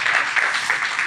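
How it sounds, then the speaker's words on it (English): Audience applause for a dancer at a temple consecration festival in a Himalayan ashram, a brief steady patter of many hands clapping, fairly loud and close. "Give a clapping hand to our great Kumari Somashekhari."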